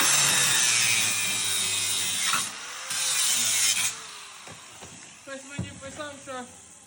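An angle grinder cuts with a loud, harsh high-pitched whine that drops off, then voices talk over lighter clatter while taking apart a Dnipromorska item.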